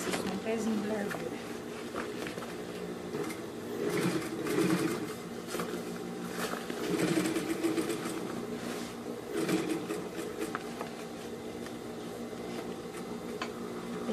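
Sewing machine stitching a pocket onto a fabric bag, a steady mechanical whir with short bursts as the stitching speeds up and slows, while someone talks over it.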